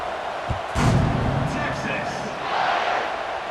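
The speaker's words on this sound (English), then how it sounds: "this crowd is buzzing after that last score" Stadium crowd buzzing in EA Sports College Football 26 after a score, a broad roar swelling and easing with a thud near the start, under a commentator's voice.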